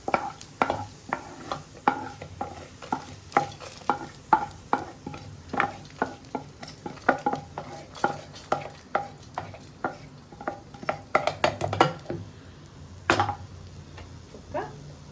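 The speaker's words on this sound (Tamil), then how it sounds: "இப்போ நல்லா பொரிஞ்சு வந்துருச்சு" Frying in a pan with repeated clicks and scrapes of stirring, a soft sizzle running underneath at a steady rhythm, close by.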